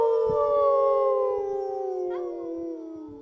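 A group of people at a family ritual howl together like wolves, their voices imitating the animal in one long, loud, wavering howl that slowly falls in pitch.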